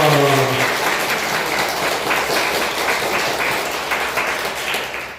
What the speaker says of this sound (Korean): 이 두 분을 박수로 환영합시다